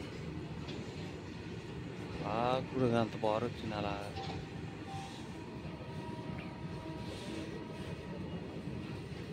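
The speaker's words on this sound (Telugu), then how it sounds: "ఎక్కడ చాలా పెద్దగా ఉంది గూడ్స్ రైలు." A long goods train rolls through a town station, a steady distant rumble and rail noise running throughout, with a brief louder clatter partway, while someone talks over it.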